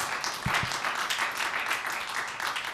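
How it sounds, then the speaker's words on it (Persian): Audience applause at a televised singing competition, dense steady clapping from a crowd throughout with a couple of sharper claps near the start. "تشویق کنید لطفا دوستان."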